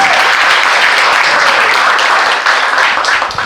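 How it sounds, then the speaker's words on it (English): A crowd at a youth art program's summer showcase applauds a participant, dense sustained clapping that fills the room loudly and then tapers slightly toward the end. "Round of applause for Ava."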